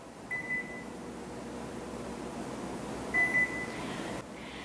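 A microwave oven beeps twice as its power level is programmed, each tone short and clear over a faint steady hum of room noise.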